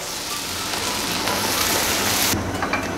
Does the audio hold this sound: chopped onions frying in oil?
yes